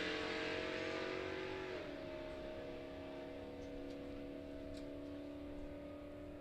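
A Chevrolet Caprice and a third-generation Camaro run a drag race at Cordova Dragway, their engines heard as a distant, steady droning roar whose pitch drops and settles as the cars pull away.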